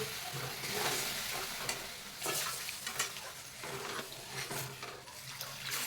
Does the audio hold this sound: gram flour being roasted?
yes